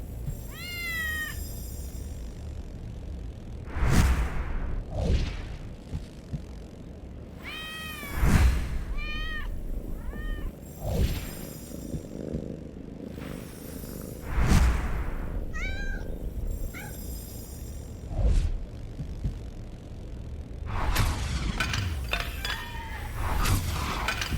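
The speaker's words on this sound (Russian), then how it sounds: "Котята?" Kittens meowing in the Harry Potter and the Order of the Phoenix video game, a run of high, rising mews repeated in short bursts across the clip, fairly close and clear over a low background of game ambience and occasional thuds.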